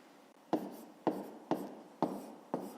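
A pen writes on paper during a fifth-grade maths exercise, five sharp strokes landing about half a second apart, each followed by a short scratchy trail, close and clear with no talking.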